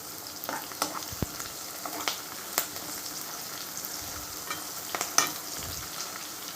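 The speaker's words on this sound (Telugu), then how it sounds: "ఆయిల్ వేసాను, ఆనియన్స్, పచ్చిమిరపకాయలు, కరివేపాకు మంచిగా ఫ్రై అవ్వాలండి." Onions, green chillies and curry leaves fry in oil with a close, moderate sizzle, and a spoon scrapes and stirs the pan in sharp, irregular knocks. No one speaks.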